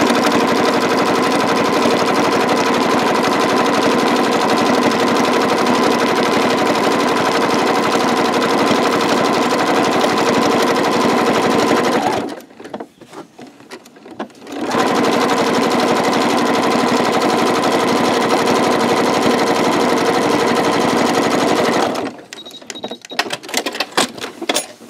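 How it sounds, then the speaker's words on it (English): Sewing machine running a decorative swirl stitch in a thread painting, a loud steady rapid needle clatter that stops briefly midway, then resumes before cutting out again near the end. "I'm using a decorative swirl stitch."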